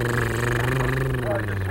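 A person's voice imitates a motorboat engine with a steady, buzzing low drone held throughout, close and moderately loud.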